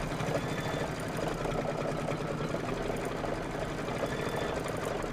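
Kimberbell table topper stitching on an embroidery machine, a steady fast mechanical whir and rapid needle patter running continuously at even loudness, close up with no talking.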